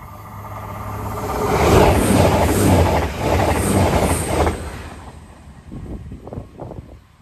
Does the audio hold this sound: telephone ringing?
no